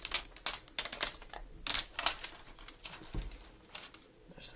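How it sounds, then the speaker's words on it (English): Adhesive tabs are peeled off the back of a Samsung Galaxy Note 5 during a glass back replacement, making close, crackly tearing bursts in short uneven clusters with quiet gaps between them. "all you need to do is just peel off these tabs right here"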